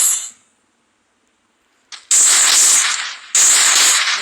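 In a mobile shooting game, loud bursts of gunfire sound close and harsh: a quick burst at the start, then silence, then two sustained rattling volleys, with no talking.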